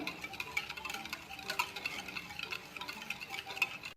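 A spoon beats cake batter with oil in a bowl for a pineapple cake, producing quick, repeated scraping and tapping strokes in a steady rhythm, close and moderately quiet.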